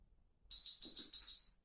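Electronic workout timer giving three short, sharp, high-pitched beeps in an even rhythm, clear and close in an otherwise quiet room.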